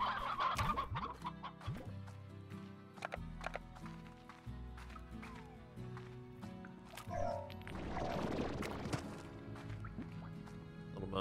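Hens clucking in the Slime Rancher video game, several quick clucks mixed with game music and scattered effect sounds throughout.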